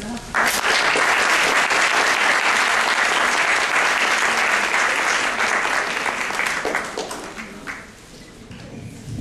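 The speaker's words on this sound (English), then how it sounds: "Let's give another round of applause for Catherine." Audience applause following a speaker's introduction at a Girl Scouts event, a dense, loud burst of clapping that holds steady for several seconds before gradually thinning out.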